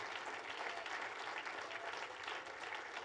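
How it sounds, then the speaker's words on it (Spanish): A church congregation applauds steadily throughout, a dense wash of clapping at a moderate distance with no voices on top. "¿Alguien le quiere dar un aplauso al dueño de la vida?"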